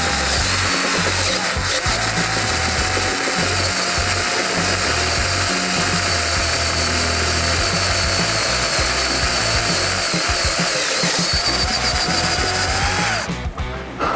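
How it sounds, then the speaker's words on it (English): A power drill with a large bit bores a hole through a plastic Harley-Davidson touring motorcycle tour pack, a steady loud whine holding throughout, broadband and continuous, then cutting off at the very end. "with a big drill bit in plastic, you know, you just let the drill do the work"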